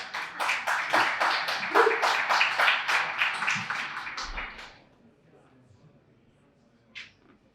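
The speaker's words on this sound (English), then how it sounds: "Warm applause." Warm applause for a keynote at a blockchain conference's creative industry track: a modest group of distinct, rhythmic claps that tapers off and stops partway through, leaving near silence broken by one brief tap.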